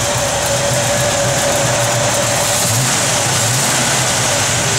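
The 350 V8 engine of a 1967 Chevrolet Camaro runs steadily at a rumbling idle with slight swells in revs, loud and close, with no voices.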